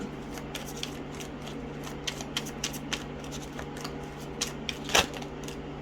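Tarot cards riffle and slap in quick, irregular bursts as they are shuffled, ending in a sharper snap, with a faint steady hum underneath.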